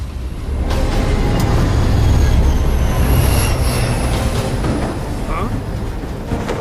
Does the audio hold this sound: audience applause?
no